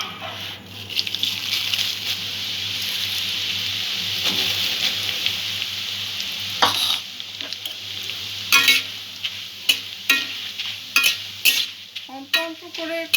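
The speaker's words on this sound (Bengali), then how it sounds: "চিড়েটা ভেজে নেব।" Poha, flattened rice, frying and being stirred in a pan gives a steady sizzle with scraping stir strokes, turning into louder intermittent clatters and scrapes toward the end, with no one talking.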